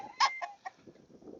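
Chickens cluck in a few quick, sharp bursts, close by, then fall to quieter low murmuring, with no voices present.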